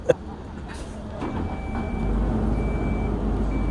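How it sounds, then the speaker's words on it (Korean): Bus pulling into a stop on a sunny day at a temple shopping area in Korea, with a steady engine rumble building, faint beeps and street ambience, and a brief voice at the start. "버스 들어오네요"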